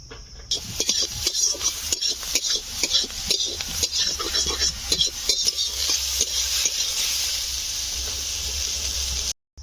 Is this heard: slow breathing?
no